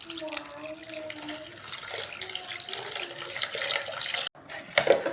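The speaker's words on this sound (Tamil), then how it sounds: "அரைச்சிட்டு வந்த கலவையோட 4 டம்ளர் தண்ணி ஊற்றி கலந்துக்கலாங்க." Water poured into a vessel of ground urad dal batter and stirred in, a continuous splashing, gurgling pour for several seconds, fairly close, ending in a brief clatter.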